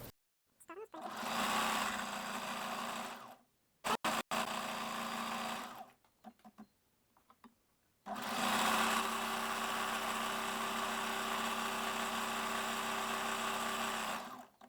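A sewing machine stitches elastic onto the lace of a structured bust in three long, steady runs of close, buzzing whirr, with brief pauses between them.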